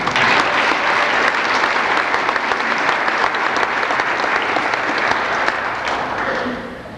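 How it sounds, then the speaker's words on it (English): Audience applause at a high school awards night, a dense, steady wash of many hands clapping close and loud for about seven seconds, easing slightly at the end. "Let's give them a round of applause."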